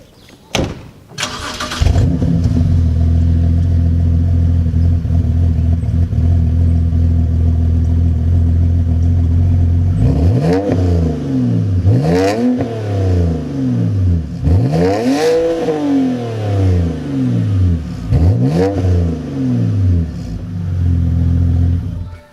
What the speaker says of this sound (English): I'll show you guys the revs of my car right now, and that's with the muffler delete, of course.